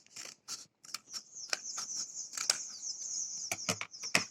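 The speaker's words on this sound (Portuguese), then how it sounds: "O rolo do papel higiênico nós vamos cortar ao meio." Scissors snip through a cardboard toilet paper roll to halve it, with quiet, close, irregular crisp cuts and a scraping rasp, no talking.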